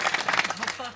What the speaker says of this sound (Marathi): मग जरा टाळ्या वाजवा की.